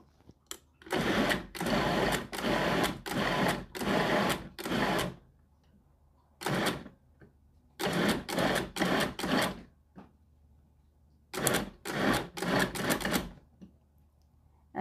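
A blender pulses fresh tomatoes into a quick salsa, with three groups of short, loud whirring bursts separated by brief pauses, close by and with no talk.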